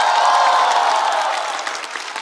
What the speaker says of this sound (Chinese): 再次掌声送给所有的表演嘉宾。